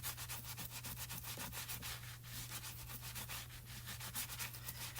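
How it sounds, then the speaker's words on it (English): Stamp cleaner is wiped off a stamp with a microfiber towel, making a steady, soft rubbing and scrubbing sound in quick repeated strokes under a low background hum. "I just use a little bit of stamp cleaner and a microfiber towel to clean that off"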